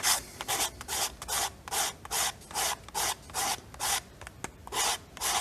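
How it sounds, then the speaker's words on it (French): A knife scrapes the striker strip of a matchbox in about a dozen even, rhythmic rasping strokes, close and fairly loud, with no talking. "avec un couteau, je gratte"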